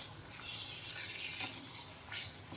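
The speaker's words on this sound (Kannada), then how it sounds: "ಇದಕ್ಕೆ ಒಂದು ಸ್ವಲ್ಪ ನೀರು ಹಾಕ್ತಾಯಿದ್ದೀನಿ." Water poured into a green chilli curry in a pan, a continuous close splashing rush lasting a couple of seconds, moderately soft, with no talking.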